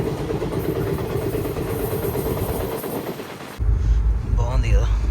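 The Chennai Mangalore Mail running near the sea, a loud continuous rumble and rattle of the moving train that shifts abruptly to a deeper, heavier roar partway through, with a voice speaking over it.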